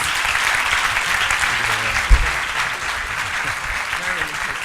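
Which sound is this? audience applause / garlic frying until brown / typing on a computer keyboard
audience applause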